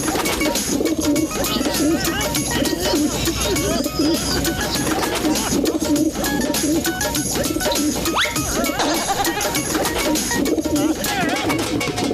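Pigeon coos in a cartoon, repeated bird calls over a dense, busy mix of music and other sound effects, loud throughout.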